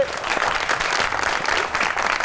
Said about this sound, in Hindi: बहुत सी ताली होनी चाहिए हामिद भाई के लिए